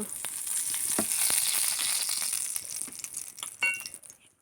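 Oil crackles and sizzles steadily in a hot pan while frying, close and continuous, with a few small clinks and pops before it fades toward the end.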